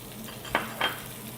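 Onions and garlic sautéing in oil, a soft background sizzle with two quick scraping stir strokes close by, no one talking.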